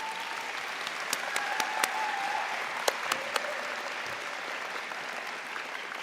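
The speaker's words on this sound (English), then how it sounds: "Graduates, may I ask you to give a round of applause for our wonderful faculty and staff?" Graduates at a spring convocation ceremony applaud their faculty and staff, a steady, moderately loud wash of clapping from a large crowd that holds evenly throughout with a few sharper individual claps standing out, no talk over it.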